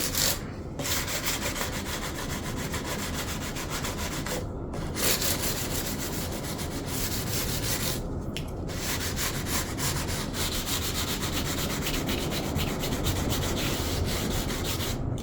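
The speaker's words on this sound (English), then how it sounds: "Sanding block with 600 grit" A 600-grit adhesive-paper sanding block works the frets of a bass guitar in a steady, continuous rasping rub, close and unbroken apart from a few short pauses, with no talking.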